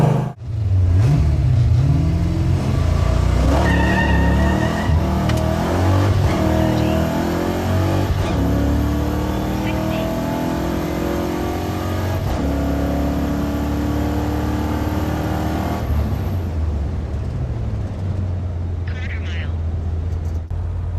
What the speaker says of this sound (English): the carburetor's bogging